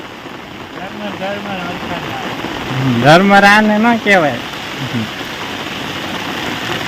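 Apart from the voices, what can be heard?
heavy rain falling on a village rooftop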